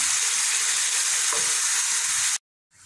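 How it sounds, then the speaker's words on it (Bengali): Spice paste with turmeric, salt and a little sugar fries in oil for a mutton curry, making a loud, steady sizzle up close that cuts off abruptly near the end. "মশলাটাকে ভালো করে আমি কষিয়ে নিচ্ছি"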